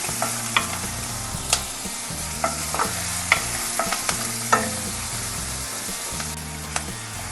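Onions fry in a pan for Indian-style pasta, a steady sizzle under repeated scraping stirs of a spoon, close and clear.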